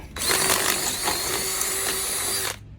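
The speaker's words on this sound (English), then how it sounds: "Now we get our 5/16 drill bit. Finish drilling out the holes so we can just use a nut and bolt." A power drill with a 5/16 bit bores through aluminum during a lawnmower deck repair, a single steady high whining drill run of about two and a half seconds, close and loud, cutting off abruptly, no talk.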